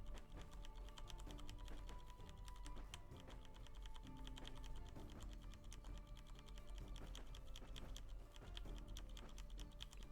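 Rapid, continuous clatter of computer keyboard typing while playing Medieval Dynasty, close and busy throughout, over quiet tonal game music.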